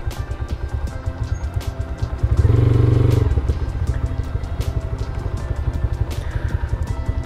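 Motorcycle idling with a steady low chugging putter close by, briefly revving up to a louder drone before settling back to a rhythmic idle.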